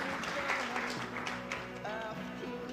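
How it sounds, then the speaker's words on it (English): Spectators at a shotgun shooting competition give a light round of applause after a perfect round, soft steady clapping mixed with faint murmuring and a commentator's voice. "They applaud for that perfect 4 by Rashid Hamad"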